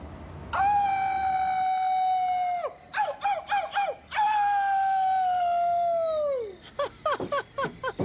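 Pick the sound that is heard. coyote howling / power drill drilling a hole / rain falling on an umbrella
coyote howling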